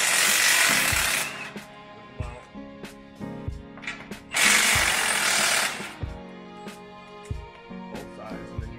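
An impact wrench removes 15 mm nuts from the crossbar during a snow plow install on a Ford Alumiduty F250-F550, firing two loud, sustained rattling bursts with metallic clanks and knocks between them.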